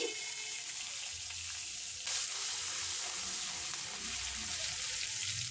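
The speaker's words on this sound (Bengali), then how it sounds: "তারপর ফোড়নে দিয়ে দেব চার টুকরো এলাচ আর গোটা জিরে" Whole cardamom and cumin seeds sizzle steadily in hot oil as tempering for vegetable moong dal, a continuous close, fairly quiet hiss that grows slightly louder partway through.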